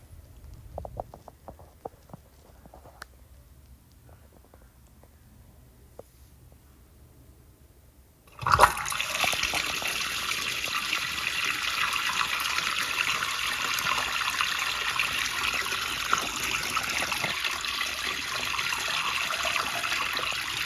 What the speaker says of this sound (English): just to see what it would look like with flushing with some of just the back rim jets